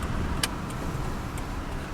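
Cars passing along a residential city street, Hampton Avenue, a steady close road-traffic whoosh with a faint jingling tick, no talking.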